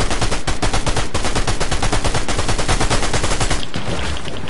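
Rapid automatic gunfire in Fortnite, a fast steady stream of loud close shots that rattles on for several seconds before cutting off near the end, with no talking.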